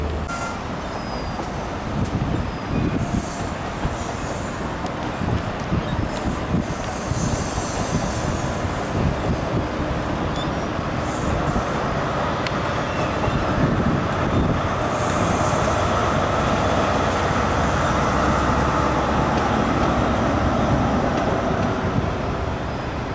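A train rolls past near a station in Cardiff, a steady loud rumble of wheels on rails lasting throughout, with faint squealing and clanking and no talk.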